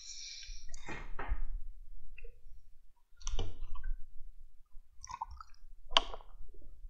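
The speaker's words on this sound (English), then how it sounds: "So this is how he's nailing it." Nails hammered in for building center line marking on a construction site, a few sharp close knocks in separate bursts with pauses between them, no talking.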